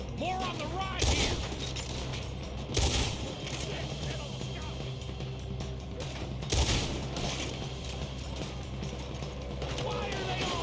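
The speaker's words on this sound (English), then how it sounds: "Why are they all shooting at me?" Gunfire in Red Dead Redemption 2 during a robbery shootout, with several loud sharp bursts standing out over a continuous bed of game sound and music, repeating at irregular intervals.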